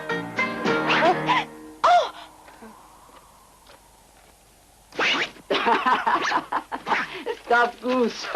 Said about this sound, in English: Stop goose.